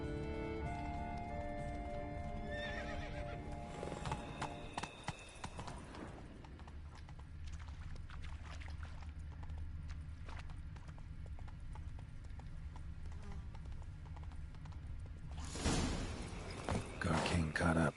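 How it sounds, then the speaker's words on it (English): Hooves clop rapidly in a steady galloping rhythm in The Witcher 3, with a spooked horse whinnying, over a low background score, ending in a louder burst. "Horses must have gotten spooked."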